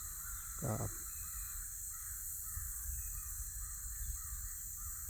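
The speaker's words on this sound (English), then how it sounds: "this bird's going crazy out there somewhere" A single crow's caw sounds once outside, brief and moderately loud, over a constant steady hum of background noise.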